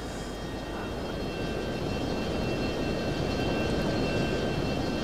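F-22 jet engine in flight from the F22 Total Air War video game, a steady, loud, broadband roar that holds constant and dense throughout with no talking.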